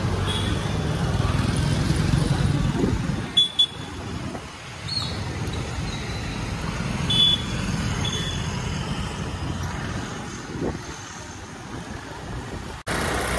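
A scooter ridden by a mother on a road in Chiplun, India, gives a steady low engine drone and wind rush throughout, with brief dips, faint passing traffic and a few snatches of talk.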